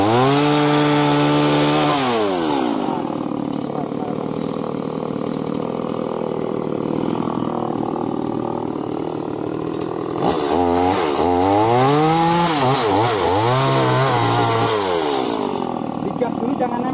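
A Stihl MS 180 chainsaw revs up and down loudly and cuts into wood, its engine pitch dropping under load and climbing again, with someone talking over it.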